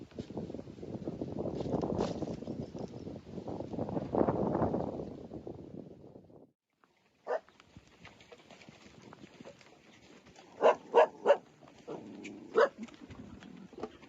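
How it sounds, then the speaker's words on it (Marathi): A dog barks in short sharp bursts, several quick barks clustered in the second half after a stretch of rustling outdoor noise in the countryside where sheep are being grazed. "कुत्रा काय येऊन देत नाही वाटत कोणाला."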